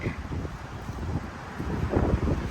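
Strong storm wind roaring across an outdoor vegetable garden, a continuous rumbling buffeting against the microphone with gusty swells, no talking heard.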